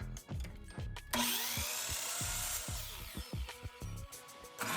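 A power saw whines through wood, a loud sustained cutting roar with rhythmic thumps underneath, stopping briefly before starting again, cutting a piece to size for a miter saw fence stop block.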